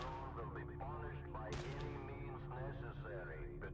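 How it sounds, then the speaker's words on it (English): A single sharp gunshot goes off midway in STALKER: Shadow of Chernobyl, set in the Chernobyl zone, sounding over continuous game ambience while someone talks throughout. "the military is going to hear my gunshots and think I'm shooting at them"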